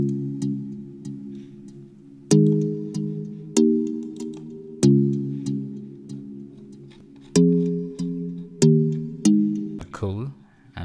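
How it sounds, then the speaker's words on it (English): A pluck synth from the Harmless plugin in FL Studio plays an afroswing chord progression: sharp-attack chords strike at uneven intervals and decay quickly, with a brief swooping sound near the end and no talking. "I started with a plug sound that's from Harmless."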